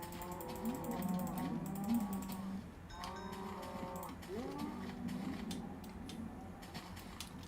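Animal calls from cows in Minecraft, with several drawn-out, tonal moos that overlap one another in steady succession over a faint background hum, and no talking.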